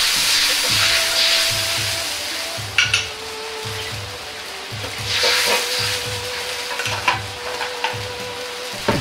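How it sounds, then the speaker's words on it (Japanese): Sweet and sour sauce for meat dumplings simmers in a pot while a utensil scrapes and stirs it in steady repeated strokes, with faint bubbling and light clinks of metal against the pan. "タレをしっかり混ぜて鍋に入れ、焦げつかないように混ぜながら煮ます。"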